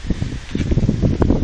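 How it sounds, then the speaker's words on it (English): Outdoor wind buffets the microphone beside a parked car at a home garage, giving a loud, uneven low rumble with gusty rustling throughout. "Sorry about the wind, everyone."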